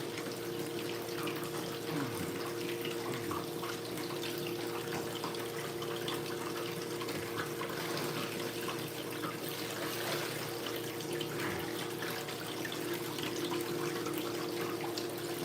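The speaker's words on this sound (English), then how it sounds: "Got a lot of water." Heavy water flowing steadily during a gold prospecting session, a continuous dense rushing wash with a steady level and no talk.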